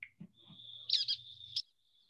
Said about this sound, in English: kind of a little squeaky, and that's the brown-headed nuthatch